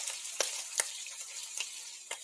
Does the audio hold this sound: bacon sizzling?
yes